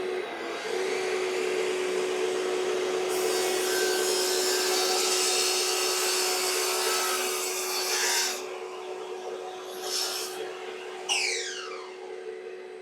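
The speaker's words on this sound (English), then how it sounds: "I tested running the miter saw and the shop vac at the same time." A miter saw and a shop vac run together on an Anker SOLIX C1000 portable power station, giving a loud, continuous, close whine that changes in pitch as the blade cuts and then spins down.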